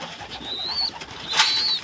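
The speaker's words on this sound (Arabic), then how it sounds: "حمامتين ما شاء الله اهم" Pigeons coo close by in two short, clear calls one after another, with quiet background noise around them.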